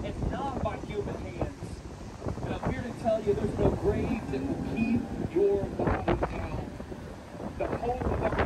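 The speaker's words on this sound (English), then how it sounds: "it's a little windy this morning" Gusty wind buffets the microphone in rough, uneven rushes, with people talking intermittently over it.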